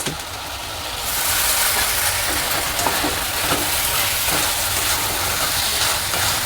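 Boiled chicken pieces frying in a spicy masala with a little water in a pan, giving a steady close sizzle and hiss that swells after the first second and continues evenly.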